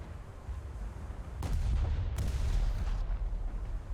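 Naval secondary guns fire in War Thunder, two sharp booming reports about a second apart over a low rumbling background of ship noise.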